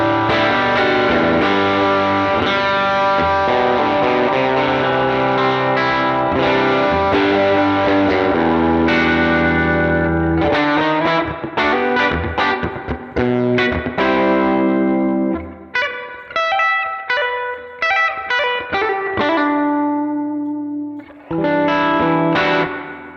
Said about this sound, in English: And then we have overdrive on footswitch 3.